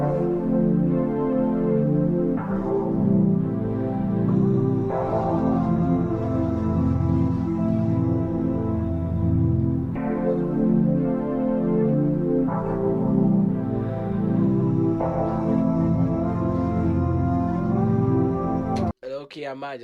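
Song passage of layered, formant-shifted vocals over a sustained harmonic backing, steady and loud for about nineteen seconds with phrases changing every few seconds, then cutting off abruptly near the end.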